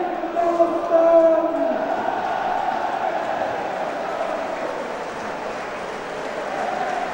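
A football crowd fills the Hull City stadium for a match against Bristol Rovers: a steady, broad wash of murmur and noise, with a few sustained chant-like tones rising briefly in the first couple of seconds before settling into an even roar.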